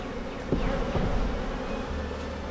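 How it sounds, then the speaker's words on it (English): A thick, steady drone of many bees buzzing close by at a packed hive entrance, with a few individual insects zipping past nearer. "There are a ton of bees everywhere, and let me show you the front real quick."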